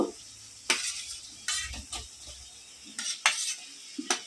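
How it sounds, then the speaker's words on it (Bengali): Fried mixed vegetables are stirred in a pan for a vegetarian mix veg dish, with several separate scraping, clattering strokes of a spoon against the metal and a faint sizzle running underneath. "এই ভাজা সবজিগুলো আমি সব দিয়ে দেবো এর মধ্যে দিয়ে এবার ভালো করে একটু নেড়ে চেড়ে কষিয়ে নেবো"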